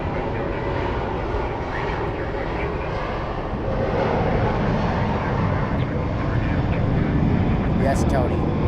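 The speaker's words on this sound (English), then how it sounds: "Got American Airlines 737 Max, or not a Max," An American Airlines Boeing 737 jet on flight 823 to Reno roars steadily at an airport, a loud broadband engine rumble that holds level throughout, with people talking over it.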